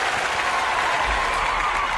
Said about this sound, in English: The crowd is already screaming for you.